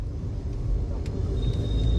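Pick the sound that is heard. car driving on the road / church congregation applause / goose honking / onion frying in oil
car driving on the road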